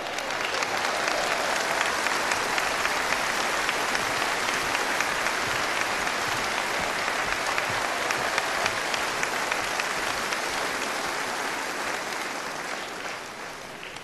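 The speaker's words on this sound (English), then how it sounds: "Give them an enormous applause" Enormous sustained applause from a large open-air concert crowd at a live orchestral show in Maastricht, a dense continuous roar of clapping that holds steady for many seconds before easing slightly near the end.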